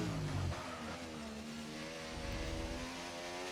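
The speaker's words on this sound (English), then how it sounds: "Dubsy out there did an extra outlap to burn some fuel here and is now going on his first push lap here in the" A McLaren race car on a qualifying push lap at Qatar, its engine holding a steady, loud high-revving whine with layered harmonics that climb slightly as it accelerates, continuous throughout with no talking.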